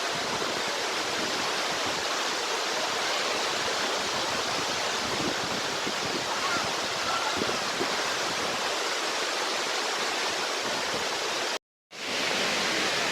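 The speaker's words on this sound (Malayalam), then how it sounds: "പാലൂർക്കോട്ട വെള്ളച്ചാട്ടത്തിൻ്റെ ഭംഗിയാണ് നിങ്ങളെ കാണുന്നത്" At dusk in Malappuram, Kerala, the Palurkotta waterfall gives off a steady, even roar of falling water that fills the whole clip. It drops out abruptly near the end, then returns, and no one speaks.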